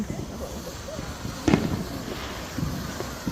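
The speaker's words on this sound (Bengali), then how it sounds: "বাসার সামনে fire works we are all having fun" Fireworks go off in front of a house during a family Fourth of July celebration in the USA, a single muffled boom standing out against background chatter and voices.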